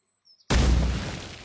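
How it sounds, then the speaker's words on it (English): A grenade explosion in the video game Burned Horizons: a single loud, close blast erupts after a brief quiet, with a heavy low-end boom that decays over about a second. "You know what we could do is actually just clear it with a grenade."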